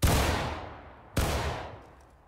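Two rolling musket volleys from a line of infantry in the War of Rights game, each a sharp massed crack that decays into a long echoing rumble, the second following about a second after the first.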